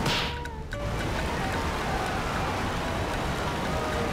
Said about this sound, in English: That waterfall is insanely loud.